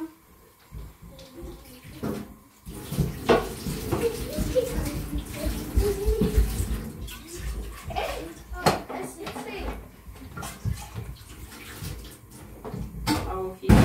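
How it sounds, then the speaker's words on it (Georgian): Water runs from a home kitchen tap to fill for tea, splashing in uneven bursts alongside clinking dishes, while people, including a child, talk throughout. "ჩაის წყალსაც დავადგა"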